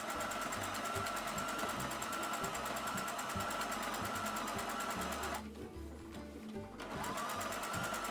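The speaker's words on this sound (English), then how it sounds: "We are going to sew closer to the edge all around the bag" A sewing machine stitches close to the edge all around a fabric tote bag, a steady fast whirring hum that runs almost without a break and eases off once, briefly, near the end.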